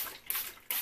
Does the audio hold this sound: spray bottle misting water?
yes